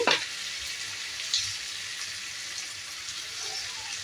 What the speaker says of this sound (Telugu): పచ్చిమిర్చి పేస్ట్ మొత్తము బాగా ఫ్రై అయిపోయి ఆయిల్ పైకి తేలుతుంది